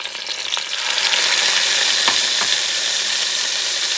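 Haitian épis seasoning hitting about two tablespoons of hot oil in a pot, a loud sizzle swelling within the first second into a steady close hiss with a few scraping ticks, no voices.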